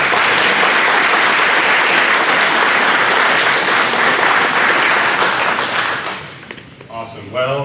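A large audience claps steadily at a contractors' town hall, a thick even wash of applause that thins out near the end as a voice begins to speak.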